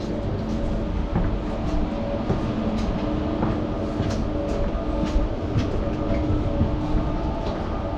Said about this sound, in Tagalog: Tapos ayan yung tram, wala pang mga sakay-sakay.